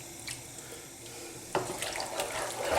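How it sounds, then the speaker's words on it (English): Tap water runs into a kitchen sink beside a pot of chicken and chorizo pasta sauce, a soft trickle that grows to a fuller splashing stream halfway through, quiet and nearby. "I could just add just a drop of water."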